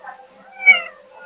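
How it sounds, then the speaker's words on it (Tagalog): A cat meows in a Roblox escape game, one clear, close meow rising to a peak midway over faint background sound. "Meow ka pa."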